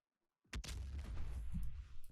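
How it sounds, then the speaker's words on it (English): After a moment of silence, an explosion in a video game level bursts out suddenly and loud, then rumbles on with a sustained low roar. "Like if I drop down here, the explosion's going to go off much earlier."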